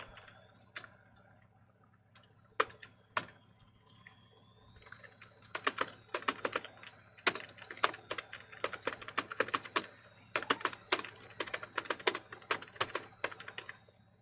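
Fingers tap on a computer keyboard, starting with a few scattered keystrokes and building into a fast, irregular run of close, light clicks.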